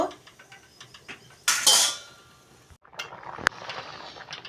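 A pan of pumpkin and fish sour curry with tamarind is stirred, giving a run of light metallic clicks and scrapes, a burst of sizzling hiss, then a single sharp clank.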